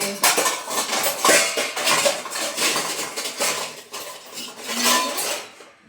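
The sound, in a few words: dishes and pots being arranged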